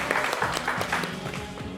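Studio audience clapping on a French daytime TV show set, a dense steady patter of many hands filling the space at close range, with a voice cutting through now and then.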